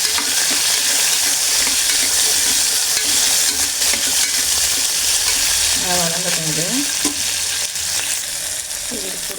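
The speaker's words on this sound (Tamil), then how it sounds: "அது கூட வந்து நம்ம தக்காளியும் சேர்த்து கூடவே சேர்த்து வதக்கிடலாம்" Small onions and tomatoes sauté in a pan for a kurma, giving a loud, steady frying sizzle with stirring scrapes close up, while a voice briefly murmurs partway through.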